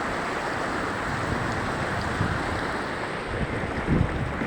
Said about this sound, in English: Because you see the power of this water.